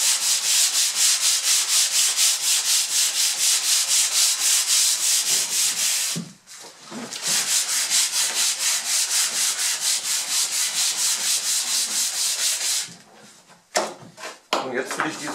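Wood is hand-sanded with 180-grit sandpaper in steady, loud, close back-and-forth strokes, with two short pauses partway through.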